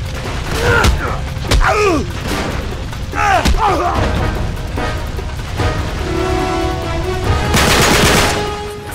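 Gunfire in the video game Uncharted 3 during a firefight, with sharp shots and bursts cutting through a busy, loud mix alongside chirping effects and a spray of noise near the end, with voices talking over it.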